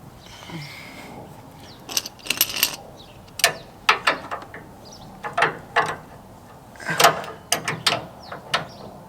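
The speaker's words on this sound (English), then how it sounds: "What we're gonna do is now loosen up our boost tube clamps, and this should eventually just wiggle ourselves out." Boost tube clamps being loosened on a Cummins diesel intercooler in a driveway, giving a scattered series of short metallic clicks and ratcheting bursts at close range, no talking.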